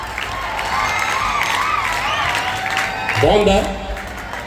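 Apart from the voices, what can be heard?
audience applauding for Charles Darwin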